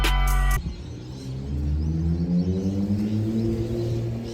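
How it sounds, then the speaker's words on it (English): A Nissan R34 GT-R's RB26 engine with a titanium exhaust rumbles in a wet car park, a low droning idle with rising harmonic tones as it grows steadily louder, following a brief burst of sharp tones at the start. "I heard this familiar rumble of an RB26 with a titanium exhaust"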